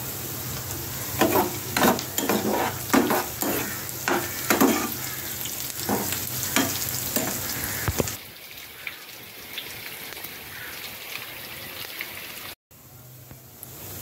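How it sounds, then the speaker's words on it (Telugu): Chopped green chillies and curry leaves sizzle loudly in hot oil as a tempering for atukula (poha) upma, with stirring scrapes, then settle into a steadier, quieter frying hiss for the last few seconds. "ఇదిగోనండి పోపులు వేగిపోయింది కదా,"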